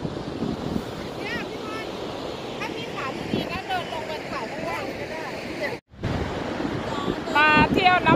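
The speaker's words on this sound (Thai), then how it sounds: "มาเที่ยวน้ำตกแฝดน้ำตกแฝดนะคะสวยๆสวยงาม" Hjálparfoss, a twin waterfall, gives a steady rushing roar with gusts of wind buffeting the microphone, while people talk over it almost throughout.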